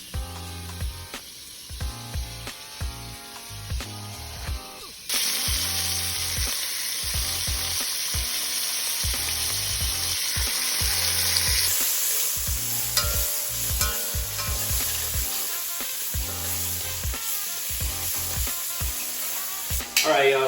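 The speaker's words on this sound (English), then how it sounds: "3 bay leaves, and then I'm just gonna let this kind of saute a little bit." Short rib vegetables with bay leaves sautéing in a pot, a steady sizzle and frying hiss with rhythmic stirring scrapes, louder and denser after the first few seconds.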